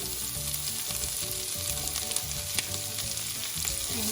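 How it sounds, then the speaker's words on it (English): Chilies and onions for a Goan prawn chilli fry sauté in a pan, giving a dense, steady sizzle and crackle with faint stirring, close and unbroken, with no voices. "And let this saute well."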